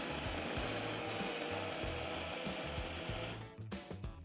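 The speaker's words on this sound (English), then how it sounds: "run the food processor until the aromatics are fully pureed" Food processor pureeing garlic and aromatics for a vegan Japanese mushroom curry, a steady loud motor whir that runs continuously, then cuts off and leaves a few rattling knocks, close, with no speech.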